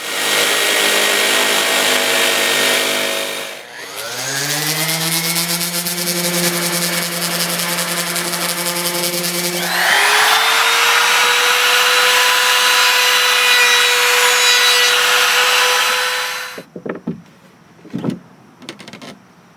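A power saw screams steadily through 3/8 inch plywood during a boat transom and decking restoration, its pitch shifting as the cut progresses, then winds down and stops with a few clunks near the end.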